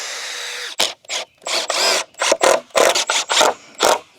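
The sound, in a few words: power drill driving screws into wood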